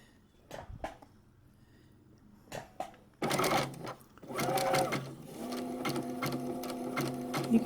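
A vintage sewing machine stitching a quilt seam starts with a few isolated clicks, then runs in short whirring bursts and settles into a steady, close mechanical rattle.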